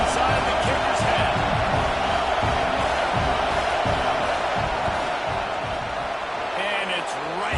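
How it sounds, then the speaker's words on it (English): A stadium crowd roars steadily during a football field goal attempt, a loud, sustained wash of noise from the stands with a broadcast commentator's voice over it. "This crowd trying to do its part to get inside the kicker's head."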